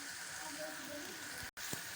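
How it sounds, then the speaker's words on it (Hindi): Homemade shami kebabs fry on a non-stick pan with a steady, soft sizzle and crackle, heard close up. The sound briefly cuts out near the end, followed by a faint knock. "अब मैं शामी अपने फ्राई करूँगी।"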